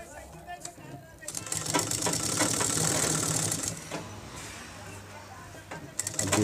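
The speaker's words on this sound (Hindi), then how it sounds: "बीच बीच में सिलाई करते जाना है और बीच बीच में स्टिच करने जाना है" A sewing machine stitching a langot runs in a steady, loud mechanical whir for a few seconds, with a brief start before it and a restart at the end.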